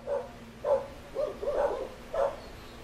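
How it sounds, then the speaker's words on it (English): Several dogs bark outdoors at a distance, five clear barks spaced irregularly over a quiet background with no talking. "Dogs."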